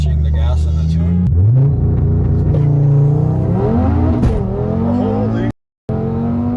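A 600-horsepower Audi RS3 launches hard from a standstill, its engine note climbing loud and close through gear changes, with a brief dropout near the end.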